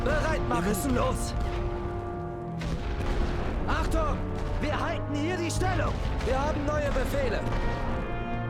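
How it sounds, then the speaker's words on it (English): Artillery fire in the WWI strategy game Great War Western Front: distant booms and crashing impacts over a continuous game soundtrack with tonal music, someone talking over it. "Now they've just decided to launch artillery at me."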